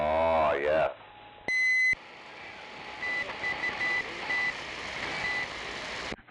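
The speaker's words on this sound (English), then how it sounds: "I hear people playing with beeps and beep, beep, beep, beep, beep" Electronic beeps coming over an AM radio: a strong steady tone, then a short burst of pure beeping, then repeated thin beeps through hissy static and noise, heard alone.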